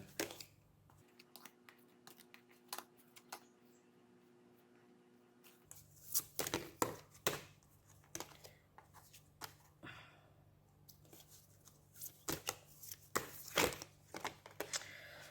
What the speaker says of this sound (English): the cards aren't shuffling too well